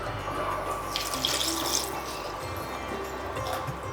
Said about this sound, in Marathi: आता आपण याच्यामध्ये घालूया पाणी.